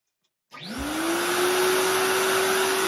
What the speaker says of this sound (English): dust suppression unit hooked to the back to suck away the chips